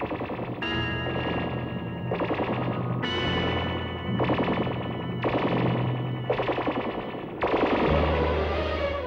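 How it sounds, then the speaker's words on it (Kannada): Gunfire in a Kannada suspense film, eight bursts of rapid machine-gun-like shots at regular intervals, each loud and echoing with a ringing tail. "ಗುಂಡಿನ ಶಬ್ದ."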